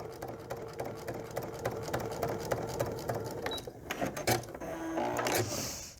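A sewing machine stitches a cat quilt block with a steady, even mechanical chatter at close range, then slows and stops with a few clicks and a brief whirr.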